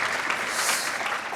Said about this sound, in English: Let's give one more round of applause for Eric